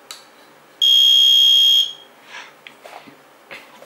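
A Lego and Arduino card-reader door lock gives one long, loud, piercing electronic beep of about a second when an unknown card is tapped, followed by faint handling clicks and rustles.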